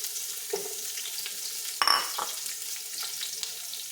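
Garlic and onion fry in a pan with a steady close sizzle throughout, a brief louder burst of crackling near the middle where stirring or fresh moisture hits the hot oil.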